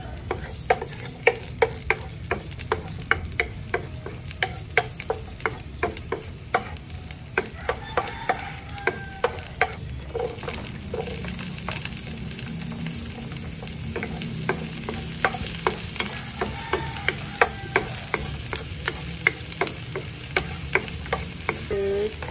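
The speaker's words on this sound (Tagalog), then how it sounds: "Start, we're gonna saute the garlic." Garlic sautéing in a pan for adobong kangkong, with a steady sizzle under sharp, regular clicks and scrapes of a utensil stirring, continuous and close.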